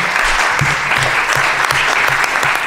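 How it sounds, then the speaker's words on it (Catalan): Audience applause at a Catalan anti-fascism talk and debate, steady dense clapping close and loud throughout, with no voices over it. "un aplaudiu"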